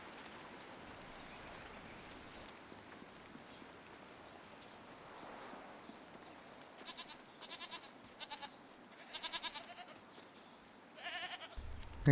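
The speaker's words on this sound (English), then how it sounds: "Had to come see the damn goats." Goats bleating in the video game Jade Empire, faint nasal calls over a quiet hiss like rain, with several louder bleats clustered toward the end.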